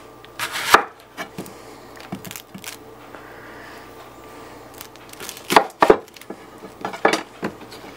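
Knife blade chopping an onion on a cutting board, giving a few sharp, close knocks spread across the stretch with quiet pauses between them and no talking.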